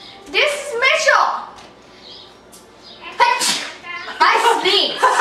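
A sharp sneeze bursts out amid lively talk from a child and others, followed by more chatter close by.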